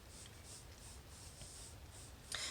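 A pencil scratches softly across white paper as a circle is drawn, a faint, even rubbing in a few short strokes. It ends with a brief louder scrape. The scene is quiet and no one speaks.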